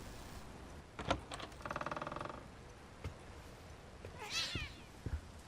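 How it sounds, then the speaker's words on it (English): A black cat in the horror game The Medium meows, a drawn-out, wavering cry near the end amid soft footsteps, a rattling mechanical whir and quiet ambient noise, with no talking. "Black cat. Nice to see you too."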